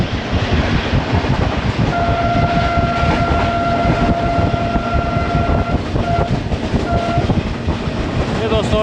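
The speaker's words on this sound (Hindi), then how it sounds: "ट्रेन हमारी इस वक्त शेर शाह जंक्शन से पास थ्रू हुई है" The Karachi Express, hauled by a Blue Tiger AGE30 locomotive, rumbles loudly through Sher Shah Junction in Pakistan, its continuous rolling clatter joined midway by a long, sustained two-tone horn blast that fades out before the end.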